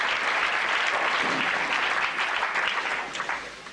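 Dense, steady applause from spectators at a 1998 women's bowling tournament in Germany, loud and continuous before tapering off at the end.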